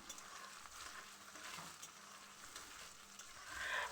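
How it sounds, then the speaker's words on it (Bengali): Chopped onions fry with whole spices such as fenugreek and cumin in a pan, giving a soft, continuous sizzle with light stirring scrapes that grows a little louder near the end. "পেঁয়াজটাকে আমি নাড়াচাড়া করে লালচে করে ভেজে নেব।"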